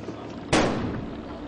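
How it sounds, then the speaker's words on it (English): A bomb squad robot destroys a suspicious device outside a bank with a single sharp, loud blast that decays over about a second against a low background hum. "Now the device is isolated and destroyed with the help of the squad's robot."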